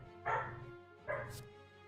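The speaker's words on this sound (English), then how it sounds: "Apologies for the dog." A dog nearby gives two clear barks about a second apart, with a short higher yip after the second, over quiet room tone.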